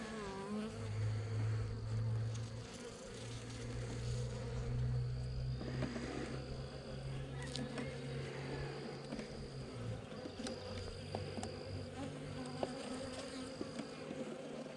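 Honey bees drone steadily and close at an open hive during a brood inspection, a dense continuous buzz with a low hum underneath and no voices.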